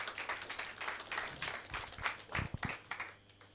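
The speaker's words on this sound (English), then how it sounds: "allow me to give a very good round of applause for Mr." Applause from an audience at a college research partnership launch event, a steady spread of clapping filling the room at moderate distance, lasting throughout.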